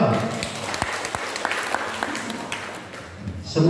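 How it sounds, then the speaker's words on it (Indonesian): Applause from a meeting audience greets Pak Giarto at a regional cooperative council assembly in Blora, a moderate, somewhat uneven patter of clapping with distinct louder claps standing out and murmuring voices beneath. "Tepuk tangan untuk Pak Giarto."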